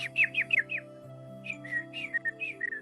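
Bright cartoon birds chirp in quick runs of short whistled tweets, with a few cuckoo-like calls, over a soft steady tonal hum.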